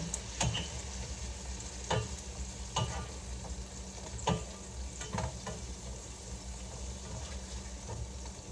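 Sausage fries in a pan on the stove with a steady, close sizzle, broken by a few sharp scrapes and clacks from stirring.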